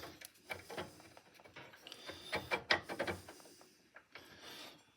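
A metal shaft slides into a brake and coupler during a Huskie Haul Master UTV repair: close, irregular metallic clicks, scrapes and clunks of parts being fitted, quiet overall with no talking.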